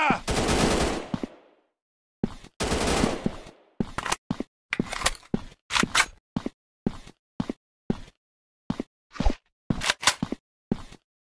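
Gunfire in an Android FPS commando shooter game, with a long automatic burst followed by a string of sharp separate shots and short bursts, loud and close, and brief game voice callouts.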